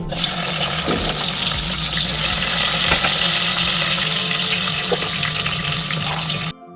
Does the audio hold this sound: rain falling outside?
no